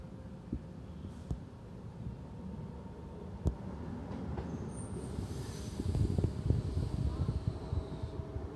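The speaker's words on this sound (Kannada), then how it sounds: "ಒಂದು ಆಪೋಸಿಟ್ ಕಡೆಯಿಂದ ಟ್ರೈನ್ ಬಂತು, ಅದನ್ನು ನೋಡ್ಬೋದು ನೀವು" A train from the opposite direction rumbles past on the line between Bengaluru and Siddhaganga, heard from inside a moving train with low rolling noise, clicks, and a rising clatter toward the end.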